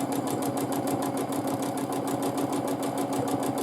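Sewing machine stitching during free-motion quilting, a rapid, continuous mechanical needle pulse at close range, steady and unbroken with no talking.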